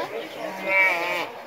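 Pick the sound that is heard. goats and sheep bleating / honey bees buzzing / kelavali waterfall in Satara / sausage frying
goats and sheep bleating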